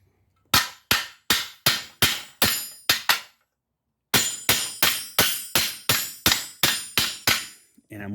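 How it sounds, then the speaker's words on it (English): A hammer strikes a thick steel piece set against bent trim on a 1973 Chevy van: about eight sharp, ringing metallic blows, a pause, then roughly eleven more in a quick, even rhythm, loud and close. "Take my trusty hammer."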